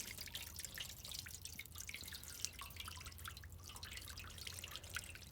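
Water poured slowly into a container laid flat outdoors to make an ice sculpture, a quiet, steady trickle with small dripping splashes and no voices.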